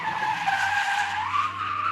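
V8 car sliding around an arena at a car show: loud sustained tyre squeal with a wavering pitch over a low engine rumble, close by.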